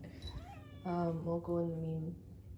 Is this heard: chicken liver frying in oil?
no